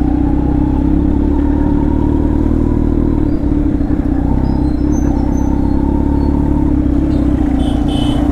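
Kawasaki Z900 motorcycle on the road, its engine humming in a steady, loud drone with a brief rough dip midway, heard close as it rides along.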